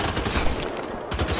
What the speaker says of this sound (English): I'm going to go for machine gun